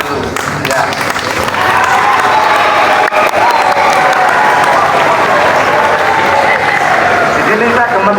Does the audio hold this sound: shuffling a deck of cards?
no